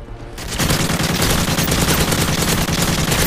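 Enemy gunfire in the Modern Warfare 3 Resistance survival mode, a loud, dense and continuous automatic-weapon barrage that starts abruptly and keeps going without a break.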